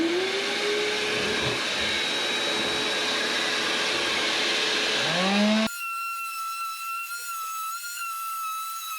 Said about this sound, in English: All right, turn on the shop vac.